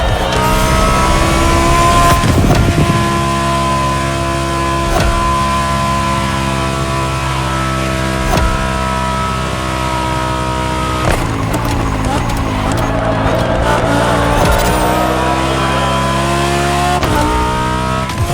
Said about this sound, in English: With the fastest customized car of this whole Liberty Walk experience, the Huracan Performante by Liberty Performance.